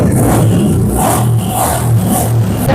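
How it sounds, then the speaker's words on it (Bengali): A used motorcycle at a bike showroom runs with an exhaust fitted, its engine idling loudly and close with a steady, throbbing drone and slight rises in pitch. "গাড়ি ফার্স্ট স্টার্ট দিয়ে আওয়াজ দেখায়"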